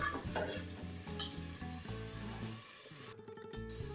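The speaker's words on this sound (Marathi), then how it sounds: "त्याला आपण तेल सुटेपर्यंत भाजून घेऊया." Kolhapuri misal masala roasting in oil in a pan gives a steady, close sizzle with repeated stirring scrapes, briefly thinning near the end before the frying noise resumes.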